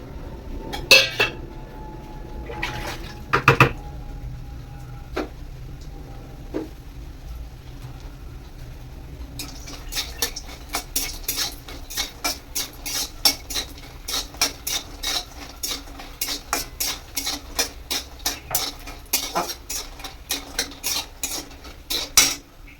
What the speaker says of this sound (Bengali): তেল গরম হয়ে গেছে বন্ধুরা, আমি এবার বড়িগুলো দিয়ে দেবো